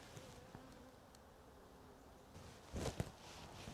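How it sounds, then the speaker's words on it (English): Honey bees buzz around a hive in autumn, a faint continuous hum with a few louder passes close by and some light rustling near the end. "Some busy bees right there."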